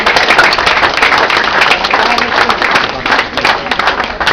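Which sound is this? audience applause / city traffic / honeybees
audience applause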